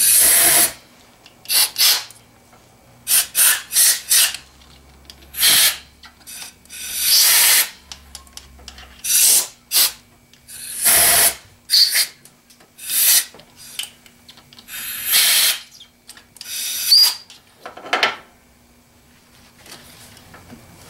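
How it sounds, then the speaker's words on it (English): Compressed air blasted in short, repeated hissing bursts to clear fluid from engine holes during a water pump replacement on a Toyota/Lexus 2.4-liter 2AZ-FE engine, close and loud with quiet gaps between. "I'm just gonna shoot some air, compressed air."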